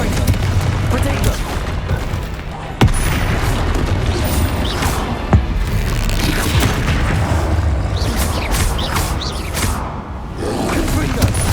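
Explosion spells cast during Hogwarts Legacy combat, a dense barrage of booming blasts, crashes and bursts layered over continuous loud action noise, with a voice speaking throughout.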